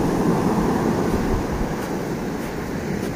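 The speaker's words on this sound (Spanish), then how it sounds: "miren cómo se ve bonito el oleaje" Ocean surf breaking steadily at Icacos beach, a continuous broad wash of waves with wind noise, loud and unbroken throughout.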